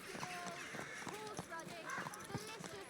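Horse hooves clip-clop in rhythmic, steady strikes as the horse moves at a walking pace in Kingdom Come Deliverance 2, with voices and crowd chatter over them.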